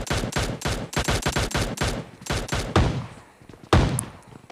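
Rapid bursts of gunfire from PUBG Lite, a run of quick loud shots in tight rhythm, then scattered single cracks after a short pause, with no talk over them.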